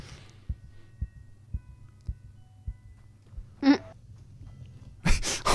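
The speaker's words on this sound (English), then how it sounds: "The heartbeat." Steady heartbeat thumps in a Roblox horror-style game, low and regular at about one beat per second, with a short burst of other game noise midway and a loud rush at the end.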